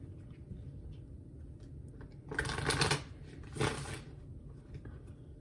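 A deck of oracle dream cards shuffled by hand, two quick riffling bursts close up over a low background hum, then quiet.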